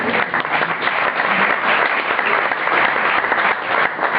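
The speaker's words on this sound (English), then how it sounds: "The applause is for each and every one of those gentlemen." Sustained applause from a jazz concert audience at the Bimhuis in Amsterdam, dense steady clapping filling the whole stretch without a break.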